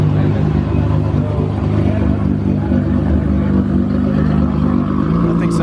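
Mustang engine running at a drag track event, a loud continuous rumbling roar with crowd and other engine noise blended in throughout.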